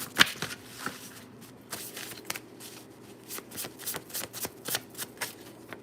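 Tarot cards are shuffled by hand in a quiet room, giving a string of soft riffling flutters and sharp card snaps at irregular intervals, close and fairly faint.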